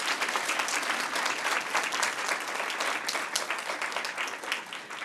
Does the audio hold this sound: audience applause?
yes